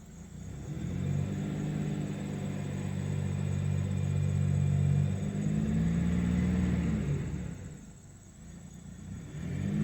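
A Buick LeSabre engine idles smoothly after a new ignition control module was fitted, a steady low rumble close by that swells slightly mid-way, then dips briefly near the end.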